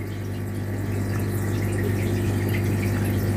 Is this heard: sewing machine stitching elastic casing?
no